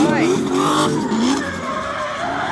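Drift cars slide at a Driftcup event, tires squealing and engines roaring loudly while a commentator speaks over the continuous skidding noise.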